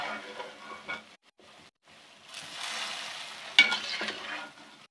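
Fried pakoras drop into a pot of achari kadhi and get stirred in, giving soft scraping, gentle sizzling and a few wet clatters, with brief pauses between bursts.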